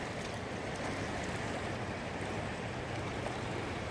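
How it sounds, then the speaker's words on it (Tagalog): A river at a salmon fishing spot in Canada rushes steadily, a broad continuous wash of water with no breaks, moderately loud and unaccompanied by voices. "Ito yung ilog na pipishingan natin guys."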